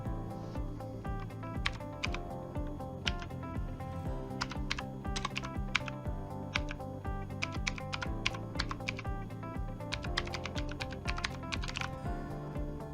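Steady typing on a computer keyboard while connection details for an FTP client are entered, with quick irregular bursts of keystrokes close up and no voice.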